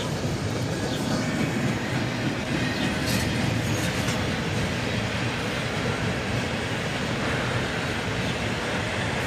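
An empty CSX freight train made up of assorted well cars rolls steadily past up close, a continuous loud wheel rumble with rhythmic clickety-clack and faint squeals.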